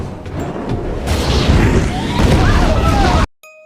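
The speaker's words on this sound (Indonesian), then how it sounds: "Beruntung Ben dan Danny berhasil keluar hingga akhirnya ruangan itu pun meledak." An explosion tearing through a room in the 2021 film Escape Room, a loud sustained blast and roaring rumble with crashing debris, ending abruptly in near silence.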